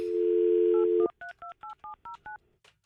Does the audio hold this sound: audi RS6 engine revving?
no